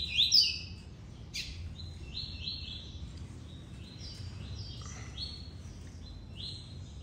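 A papa-capim (coleiro) songbird kept at a home sings a run of quick, high, sharp notes in short bursts over several seconds, close and clear above a faint low background hum.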